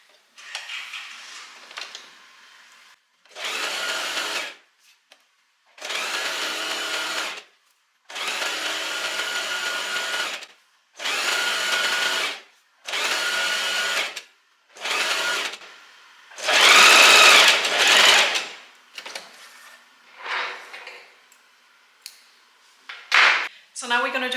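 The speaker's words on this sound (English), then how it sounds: "now I'm going to start sewing here again" A sewing machine stitches a white maxi dress in repeated runs of a few seconds each, a close, steady mechanical whir that starts and stops about eight times with short quiet gaps between.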